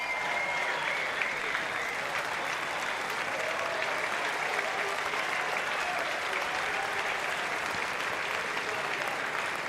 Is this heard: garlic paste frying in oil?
no